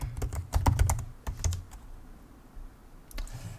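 Username and password go in on a computer keyboard for an SSH login: a quick burst of close keystrokes, a short pause, then a few more taps.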